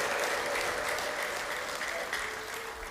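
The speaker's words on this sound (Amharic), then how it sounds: "ለዚህ ጌታ እልልታና ጭብጨባ" A church congregation bursts into sustained applause mixed with ululation, a dense, loud wash of clapping that fades slightly toward the end.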